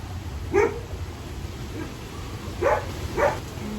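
A tiny, cheerful dog gives three short, high yapping barks, one alone and then a quick pair, close to the microphone over a quiet background hum.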